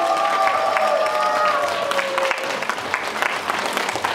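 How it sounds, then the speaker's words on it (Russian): A theatre audience at a children's fairy-tale stage show breaks into dense, sustained applause, many hands clapping at once as a steady wash of sound, with a held musical tone fading out beneath it early on. "Подарите им еще и еще аплодисменты."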